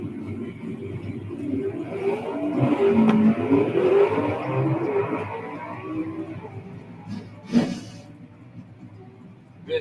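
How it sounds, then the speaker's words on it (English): Camaro gasser drag cars launch and race side by side at a Southeast Gassers Association drag strip, a loud rising engine roar that swells, then fades into distance with a sharp burst near the end. "Good side-by-side Camaro run."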